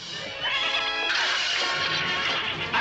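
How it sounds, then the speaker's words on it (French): Zorro's horse lets out a loud, close whinny, a long shrill neigh that wavers and trails off, with a brief thump at the end. "le cheval de Zorro"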